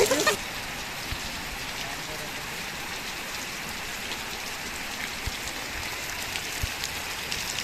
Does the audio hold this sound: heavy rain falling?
yes